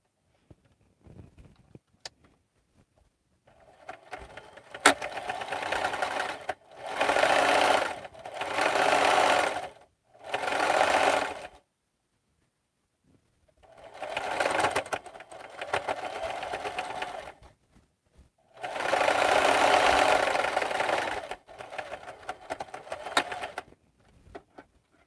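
A sewing machine top stitching a cross body bag runs in several separate bursts of steady mechanical whirring, some short and some longer, with quiet pauses between them, close and fairly loud.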